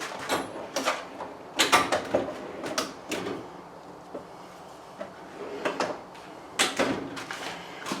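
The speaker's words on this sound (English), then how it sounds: "Let me give it a whack with a rubber mallet." A rubber mallet whacks a part of a Lenox hacksaw that has a burr in it, giving a series of sharp, irregular knocks, some in quick pairs, close by with quiet gaps between.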